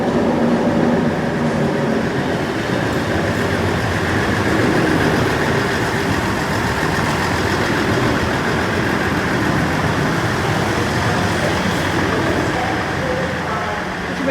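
At Nottingham station, an East Midlands Railway train gives off a steady rumble of engine and carriage noise. The sound holds constant at moderate loudness throughout.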